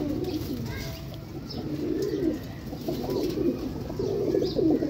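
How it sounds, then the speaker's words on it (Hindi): High-flyer pigeons in a flock near Lahore coo steadily, with overlapping soft, rolling calls that continue throughout at close range against a low background hum. "बड़े बड़े अच्छे कबूतर बिच रंग लगे ने कबूतर नूं।"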